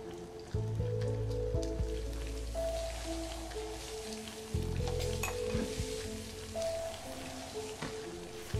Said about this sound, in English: You're burning the garlic.